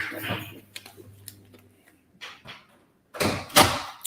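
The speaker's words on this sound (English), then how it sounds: "Close the door." An indoor door is closed, giving a few faint handling knocks and then a louder close near the end after a quiet stretch.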